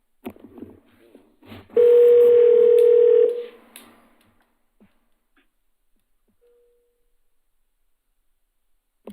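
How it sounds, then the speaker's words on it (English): A telephone is dialed during a city commission live session: a few short beeps and faint speech, then a loud steady tone lasting about a second and a half that cuts off into near silence. "I will go ahead and dial now."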